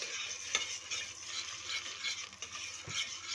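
Tomato paste is stirred into pasta in a pan, with a steady sizzle and a spoon scraping and knocking now and then against the pan, close and fairly quiet.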